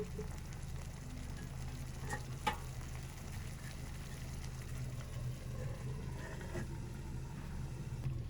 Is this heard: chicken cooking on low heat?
yes